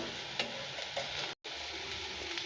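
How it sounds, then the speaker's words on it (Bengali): Malabar spinach stalk fritters sizzle in hot oil, a dense, close, even crackle with a few light ticks as they are turned, and one brief dropout midway. "এগুলো একটু ভালো করে ভেজে নেবো, উল্টে পাল্টে একটু উল্টে দিচ্ছি।"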